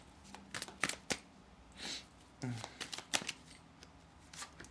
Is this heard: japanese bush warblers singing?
no